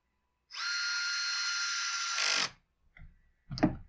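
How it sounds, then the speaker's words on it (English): A power driver runs screws into the housing of a Husqvarna T540iXP chainsaw, a high whine for about two seconds that ends in a brief louder burst, followed by a couple of short clicks and knocks. "So we're going to run these screws home here."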